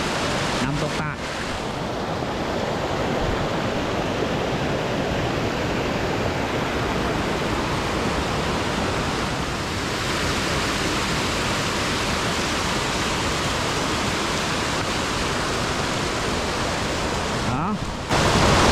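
Tad waterfall in rural southern Laos pours in a steady, dense broadband roar, loud and close, running unbroken for the whole stretch with a brief buffet of wind noise near the start and end.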